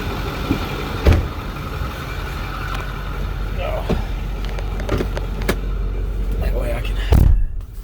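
A 2008 Ford bucket truck engine rumbles steadily from inside the cab while driving, a low continuous drone with occasional clicks and knocks, and people talk quietly over it.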